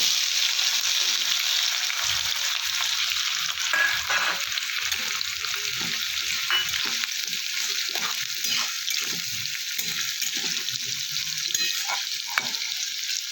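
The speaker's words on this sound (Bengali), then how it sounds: "ফোড়নটা আমি কয়েক সেকেন্ড ভেজে নিয়ে এবার দেবো কুচানো পেঁয়াজ" Chopped onion sizzles steadily in hot oil after whole spices are tempered, a continuous bright frying hiss with soft scraping stirs throughout and no talk over it.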